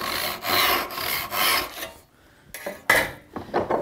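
Hand saw cross-cutting a piece of wood near a scribe line for a mortise and tenon joint, close rhythmic rasping strokes, several back-and-forth pushes, then a pause and a few shorter, uneven strokes.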